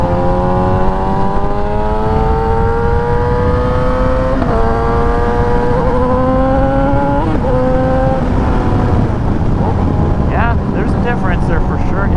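A Yamaha YZF R6 sport bike engine whines at high revs while riding, its pitch climbing steadily through the gears with brief dips at the shifts, loud under heavy wind rush.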